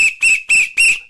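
A whistle sound effect blasts four short, piercing bursts in a quick, even rhythm, loud and close, with no voices over it.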